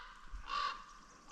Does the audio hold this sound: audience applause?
no